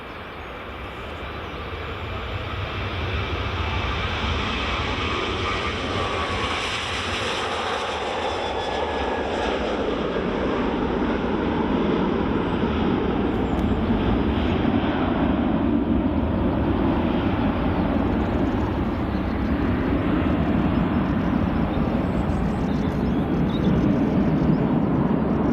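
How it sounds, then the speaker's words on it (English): A Ryanair Boeing 737 jet airliner at Edinburgh Airport passes with a rising engine roar that swells over the first few seconds, then holds as a loud, sustained jet rumble with a high whine fading out. "here comes the Ryanair 737"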